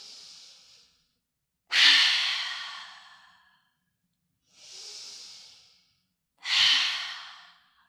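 Four forceful open-mouthed exhales from lion's breath yoga breathing, each a breathy 'ha' hiss that starts sharply and fades out, alternating softer and louder, close and alone with brief silences between.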